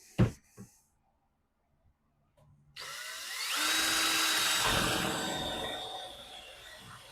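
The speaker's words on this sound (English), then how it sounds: "So let's get a drilling." Power drill boring a hole through the cargo area panel of a 2023 Ford Bronco, a sustained loud whir with rising pitch after a few brief knocks and a quiet pause.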